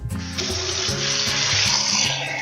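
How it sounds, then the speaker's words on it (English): Water gushes steadily from a tap into a pot for monggo soup, a continuous hissing splash with a low hum running underneath. "we're going to put a good amount of water in there"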